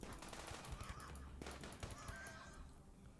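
Gunfire during a colony skirmish in RimWorld, with rapid bursts of shots crackling at moderate loudness, quick repeated pops over roughly three seconds, and some voice underneath.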